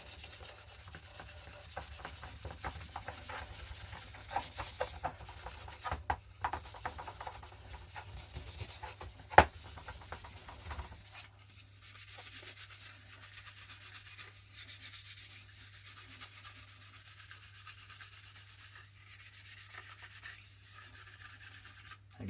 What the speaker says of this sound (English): Give the mag a good rub.